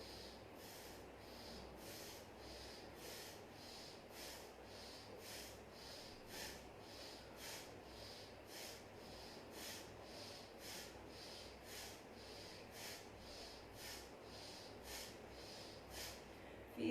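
Rapid, forceful nostril breathing in a live yoga session, heard as a steady train of short, sharp sniffing bursts at an even brisk tempo, quiet and close over a faint continuous hiss, with no talk.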